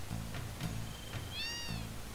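A cat in Final Fantasy VII lets out a single thin, rising-and-falling meow midway, faint over a low droning background hum, with no talk.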